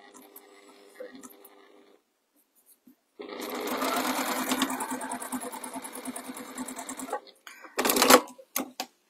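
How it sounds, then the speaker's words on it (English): A sewing machine runs steadily for about four seconds, stitching a fabric border over lace for a pie crust cushion, then gives a short final burst, with quiet talk before it starts. "So stitch one border on top of your lace."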